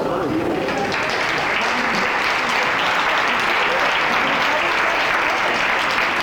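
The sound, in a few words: audience applause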